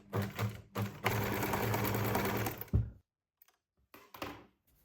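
A sewing machine stitches a fabric beach bag in a few short runs, with one long steady whir in the middle. It stops with a thunk, then a few soft clicks follow in near silence.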